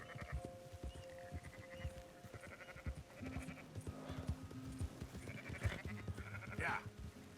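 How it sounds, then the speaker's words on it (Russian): Sheep bleat repeatedly in the video game Red Dead Redemption 2, several wavering calls overlapping one another over a low background of game sounds. "Овцами занимаемся."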